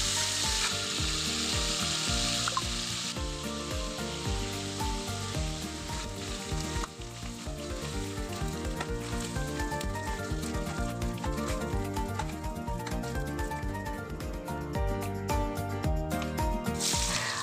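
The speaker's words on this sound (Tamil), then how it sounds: "இப்போ வெட்டி வச்ச கருவாடை எண்ணெயில் போட்டு பொன்னிறம் வரும் வரை பொரிச்சு எடுத்துக்கோங்க" Cut pieces of dried fish fry in hot oil for a Burma-style dry fish sambal, a loud, continuous sizzle heard up close for the whole stretch, with occasional stirring scrapes and no voices.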